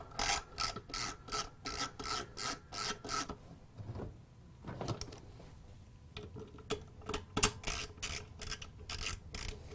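A ratchet wrench tightens the 1/2-inch bolts on a Whirlpool washer gear case, giving close, rhythmic bursts of fast clicking. The clicking stops briefly in the middle and then resumes in quicker strokes.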